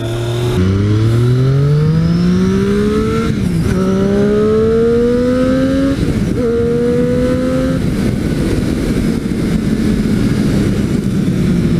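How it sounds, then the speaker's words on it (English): A Yamaha motorcycle passes, its engine climbing through rising revs over a steady rumble of wind and riding noise, loud and close with no talk. "That is a cool ass Yamaha."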